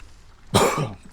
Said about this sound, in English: lots of coughing, help